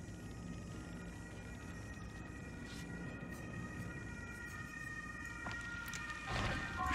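An ambulance siren wailing faintly in the distance outdoors, steady tones over quiet background hum, swelling slightly near the end.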